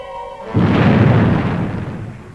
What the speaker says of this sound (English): Fire main retros.